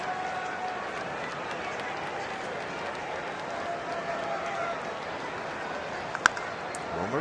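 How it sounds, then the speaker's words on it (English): A baseball stadium crowd during a Reds vs Giants game keeps up a steady, dense roar of cheering for several seconds, with a brief sharp clap or crack near the end. "that lights up the crowd, and here's Wilmer Flores."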